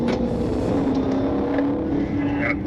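Widebody Dodge Hellcat with a muffler delete revving hard nearby. A loud, sustained engine roar holds steady throughout, with a rising harmonic tone near the end.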